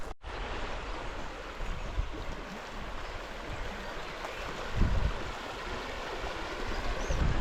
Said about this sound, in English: The river Tanat.